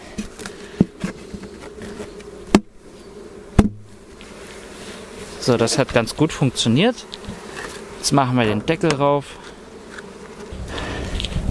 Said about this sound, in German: Jetzt kommen noch die restlichen Bienen hier rein.